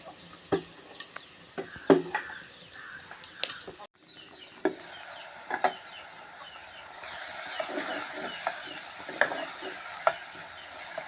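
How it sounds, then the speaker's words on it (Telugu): Onions frying in a pot with salt, a soft sizzle under irregular scraping clacks of a spoon stirring, with the sizzle swelling louder after a brief pause. "ఉల్లిపాయ మగ్గుతుందండి"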